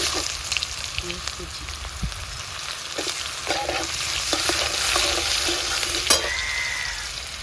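Dry red chilli, black and white cumin and chopped onion fry in oil for a katla fish head moong dal, a close, busy sizzle with repeated stirring scrapes and taps.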